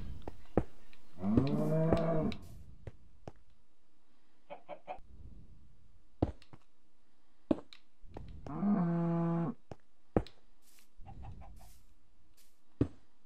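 A Minecraft cow moos twice, each a drawn-out low call several seconds apart, amid sparse clicks and clucking chicken sounds from the game, with no talk.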